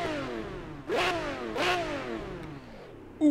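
A car engine in the Project Cars racing game revs hard twice in quick succession. Each rev climbs sharply in pitch and then falls away, close and clear with no talking.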